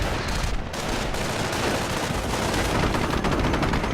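Continuous heavy machine gun fire mixed with mortar blasts in a Company of Heroes battle, loud and unbroken throughout with no talk.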